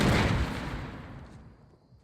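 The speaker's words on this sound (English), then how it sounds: "C4 does huge damage to enemy structures, instantly destroying any structure in its explosion radius." A single loud C4 blast in Fortnite Battle Royale booms up close, then its rumbling echo fades away over about two seconds.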